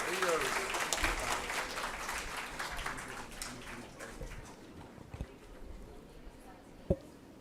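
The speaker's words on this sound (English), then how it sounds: "Please keep clapping. We should not stop." Clapping from an audience at a transplant coordinators training programme, dense and steady at first, then thinning into scattered claps with voices talking underneath and a sharp knock near the end.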